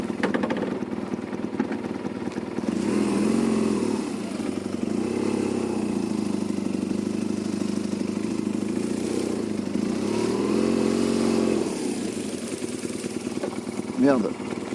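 A BMW 1200 GS DOHC motorcycle engine turns over and runs, a steady close rumble that swells and settles over several seconds before fading, with a voice briefly heard.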